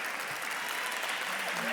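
Audience applause at a community awards dinner, a steady wash of clapping filling the short moment, with voices mixed in.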